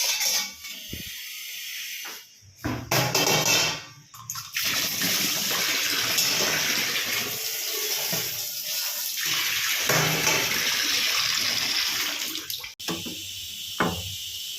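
Tap water running hard into a sink while things are washed thoroughly indoors, a loud steady gushing splash that starts and stops in bursts at the beginning and cuts briefly near the end.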